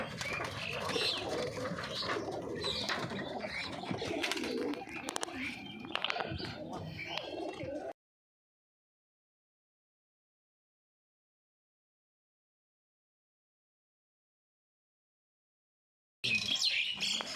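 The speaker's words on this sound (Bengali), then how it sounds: "অনেক সুন্দর সুন্দর পায়রা।" Pigeons, including Sirazi birds, coo softly in a loft beneath a person talking for about eight seconds, then near silence follows before a brief burst of sound returns at the end.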